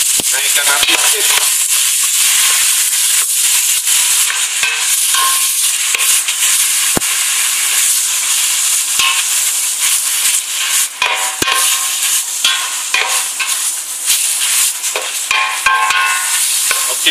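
Meat for Sarawak bubur pedas frying and being stirred in a pan over raised heat, a steady loud sizzle and hiss with scraping stirs throughout, and no talk.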